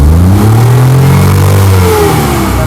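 A Maruti Omni van's engine revs hard and loud, the pitch climbing steadily past about 4000 RPM in one continuous close-up roar with no voices.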